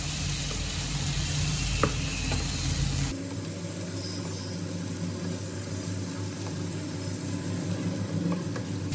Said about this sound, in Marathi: आता मसाल्यांबरोबर ह्यांना चांगलं मी शिजवून घेते